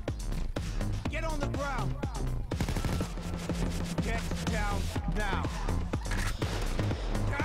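Automatic rifle from the Gage Assault Pack firing in Payday 2, with bursts of rapid shots rattling through a busy game mix of effects and music, close and loud, while a voice talks over the top.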